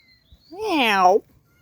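A single drawn-out cat meow, rising and then falling in pitch, close by and fairly loud, standing alone against a quiet room.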